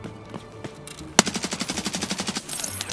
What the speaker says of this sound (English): I hear shots going down just below me